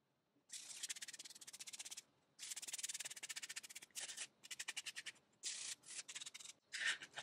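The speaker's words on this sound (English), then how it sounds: "Just going to scuff sand them just to get any failing finish off." A Surf Prep sander scuff-sands the legs of an old cedar chest to strip failing finish, giving a close, rhythmic rasping buzz in repeated strokes and bursts with short pauses between.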